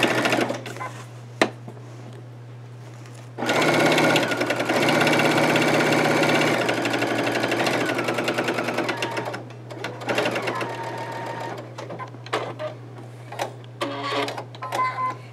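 A sewing machine stitches a T-shirt quilt square in a steady, close, loud run of several seconds, then continues in shorter, intermittent bursts with pauses between them.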